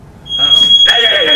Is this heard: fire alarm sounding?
yes